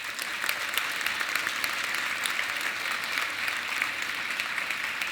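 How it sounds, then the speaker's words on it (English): Audience at a community tech conference applauds local organizations with steady, dense clapping that holds evenly from start to finish, no voices rising above it. "So I'd love to get a round of applause for these organizations"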